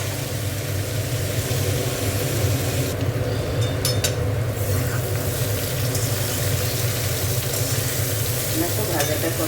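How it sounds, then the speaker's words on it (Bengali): Potatoes, cauliflower and beans fry together in a pan with a loud, continuous sizzle and crackle, with occasional stirring scrapes breaking through the steady frying noise. "বিনস সব একসাথে খুব ভালোভাবে ভাজা হয়ে গেছে"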